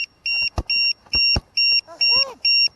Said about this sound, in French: Peut-être le buzzer qui déconne parce que c'est pas possible